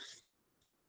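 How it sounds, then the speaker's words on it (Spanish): A single short, breathy cough bursts out at the start, then quiet room tone with a faint catch of breath. "Y me dio tos."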